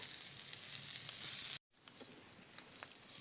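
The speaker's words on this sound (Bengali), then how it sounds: "জল না দিয়ে ভালোভাবে নেড়ে চেড়ে লাউয়ের খোসাটা ভেজে নেব" Bottle gourd peel with turmeric and salt fries without water, giving a steady hissing sizzle that cuts out briefly and returns with faint stirring ticks, quiet and close.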